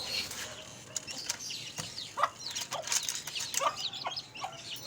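Java chickens cluck and chirp at feeding time in a small zoo enclosure, giving soft, scattered calls at close range with faint rustling behind them.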